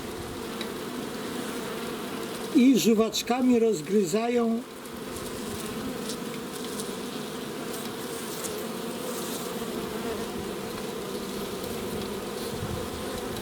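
Honeybees buzzing at the bottom board of a hive, a continuous low drone heard close, with someone speaking briefly over it early on.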